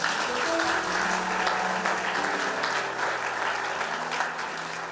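A church congregation at a gospel gathering applauds steadily and loudly for the full stretch, a dense continuous wash of clapping with some faint voices mixed in beneath.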